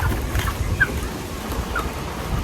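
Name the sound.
strong wind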